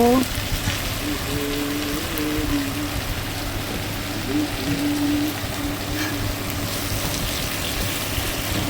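Steady, dense sizzling hiss of pomfret fish masala frying in a pan as tomatoes go in, with a faint voice in the background.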